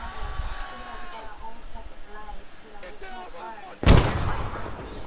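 A frag grenade goes off with a single loud, heavy blast near the end during military training, following people shouting and talking, its rumble trailing off.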